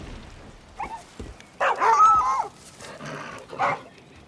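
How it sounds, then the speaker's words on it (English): A dog in the video game Far Cry New Dawn whimpering and yelping while on fire, in short bursts with a louder, longer yelp in the middle and a final cry, fairly close against a quiet game backdrop. "does your dog stop, drop and roll when it's on fire?"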